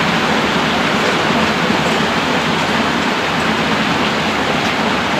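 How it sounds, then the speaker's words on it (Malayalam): Heavy monsoon rain pours down steadily in a dense, unbroken roar of broadband noise that stays loud and close for the whole stretch, with no voices heard over it. "ഗൈസ് നല്ല മഴ"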